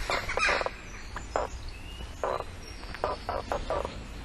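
A crow calls outdoors with a series of short, harsh caws in an uneven rhythm against steady background noise.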